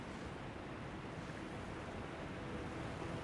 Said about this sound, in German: Da ist nichts hinterm Wasserfall.